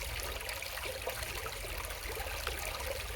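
Water of the Yao river, which feeds Lake Victoria, rushes and trickles steadily, a constant broad wash of flowing sound close by with no voices.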